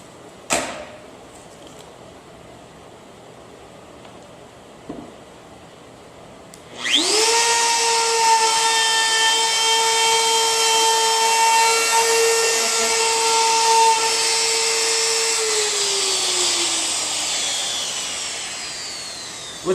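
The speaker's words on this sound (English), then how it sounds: "What's nice about this router is the fact that it's so compact." A compact one-handed portable router cuts along the edge of a clamped wooden board. After a quiet start with a few small clicks, it spins up into a loud, steady, high whine that holds for about twelve seconds and then begins to wind down.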